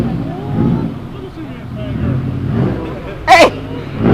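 A car rolls in and parks close by, its engine a low steady rumble under loud casual talk, with a short sharp burst of noise near the end.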